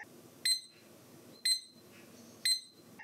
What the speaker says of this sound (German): Der Wecker beginnt bei Alarm zu piepen